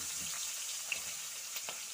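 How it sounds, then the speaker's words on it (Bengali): Steady close sizzle of onion and green chillies frying in oil left from fried potatoes, a continuous hiss with a few faint pops and no talk. "তো এগুলো একসাথে ভেজে নেব।"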